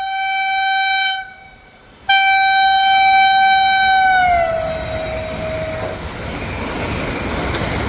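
A superfast express on the Vijayawada–Chennai Central line speeds through a station and blows a loud, long horn in two blasts. The horn's pitch drops as the train passes, then a steady rail rumble continues.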